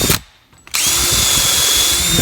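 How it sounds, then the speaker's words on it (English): A power drill with a countersink bit bores into wood: a short burst, a brief pause, then a loud, steady, close whir that runs to the end. "I'm going to use a countersink"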